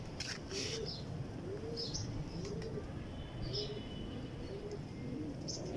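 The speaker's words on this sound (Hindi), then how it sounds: "मेरे हाथ में इसकी मादा है इस कबूतर की" A pigeon coos softly and repeatedly in a slow, regular pattern close by, over a quiet background with a few faint higher chirps and rustles.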